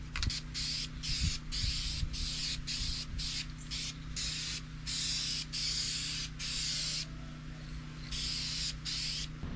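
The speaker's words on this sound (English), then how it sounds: "I grossly underestimated the amount of cans it's going to take to paint the bumper and the grill" Spray paint cans hissing in repeated bursts while coating the bumper and grille of a deer-damaged 2009 Dodge Charger R/T, close and loud, with short pauses between long sprays.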